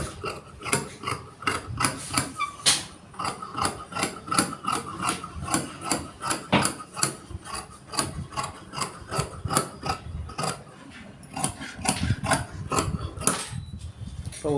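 Scissors cut through chudidar dress fabric during tailoring, giving a long, steady run of close, crisp rasping snips in a fast, uneven rhythm with no talk.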